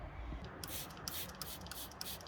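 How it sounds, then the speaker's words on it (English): Leather conditioner sprayed from a trigger bottle onto a towel, giving several short quiet hissing bursts in a steady rhythm at close range with no talking. "go ahead and spray it on a towel, work into leather, and wipe off the excess"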